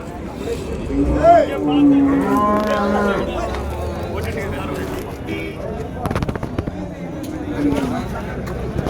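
Cattle mooing at the Vaniyambadi cattle market, several drawn-out lowing calls close by amid busy crowd chatter and a sharp bang near the end, with people talking throughout.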